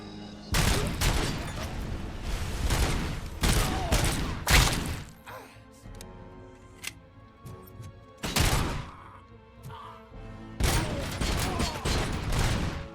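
Heavy machine gun fire erupts in the Robocop Rogue City game, loud clustered bursts with sharp impacts, short lulls and scattered clanks between volleys.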